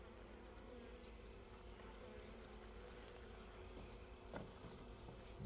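A steady, droning buzz of many honey bees in a hive fills the whole stretch, continuous and close, with a faint brief knock near the end.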